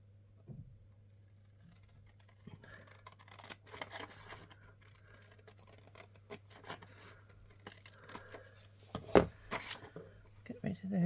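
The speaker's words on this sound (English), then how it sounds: "I'll cut that bit at the bottom as well" Scissors cutting paper pieces for a collage: a run of scratchy snips and paper rustles, close and quiet, with a voice talking in between.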